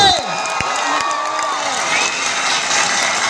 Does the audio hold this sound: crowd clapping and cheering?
yes